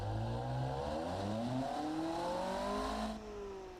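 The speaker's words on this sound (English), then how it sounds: "how you build your engine, the sound is quite distinctive of them" V8 engine from the Automation car-building game, revving steadily upward in pitch for about three seconds with a smooth multi-tone synthesized whine, then dropping off as the throttle closes, loud and alone.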